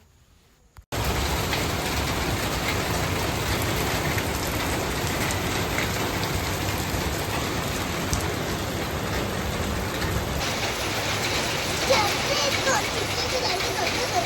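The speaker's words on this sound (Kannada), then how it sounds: "ಅಷ್ಟರಲ್ಲಿ ಮಳೆ ಸ್ಟಾರ್ಟ್ ಆಯಿತು" Steady rain falls near a bakery, an even hiss of drops on surfaces that starts abruptly after a brief quiet moment and continues loud and unbroken.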